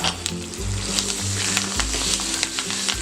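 Pepper and cumin roasting in a hot pan for ven pongal, giving a steady close sizzle with light scraping stirs and a low background hum.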